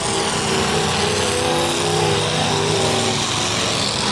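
Several demolition derby cars keep running in an arena, their engines a loud, continuous overlapping roar with steady droning tones and revving, no talk over it.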